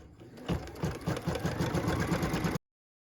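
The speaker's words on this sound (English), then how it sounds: "we can go ahead and stitch the tack down line for these hearts" An embroidery machine stitches a tack-down line for quilted heart blocks with a quick, steady, rhythmic mechanical chatter, close and alone, running for a couple of seconds before stopping abruptly.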